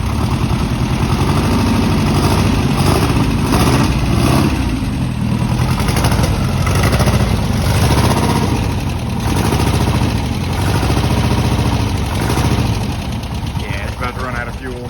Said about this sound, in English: She runs. Good motor. And you can see it. Good running motor.